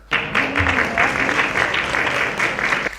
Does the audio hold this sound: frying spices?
no